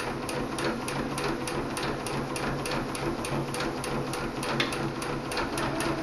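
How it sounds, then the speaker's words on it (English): Quilt block pieces run through a sewing machine in steady, rapid stitching, an even mechanical whir with regular needle ticks that continues close and unbroken, with no talking. "Just hold that down, sew it through, one more little stitch, raise your needle, pull it out, and clip it."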